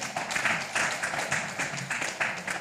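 Audience applause at a live-streamed gathering, steady and moderately distant, a dense wash of many hands clapping that continues evenly throughout with no talk over it.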